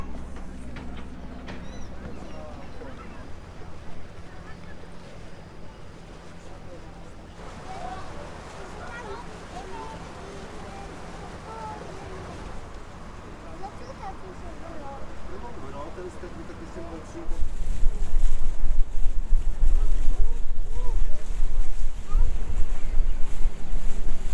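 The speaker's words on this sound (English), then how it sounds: "We're gonna get on this boat and go down the river" A tour boat engine drones on a river in Wrocław, Poland, with gusty wind buffeting the microphone, growing louder and rougher near the end, with voices faint in the background.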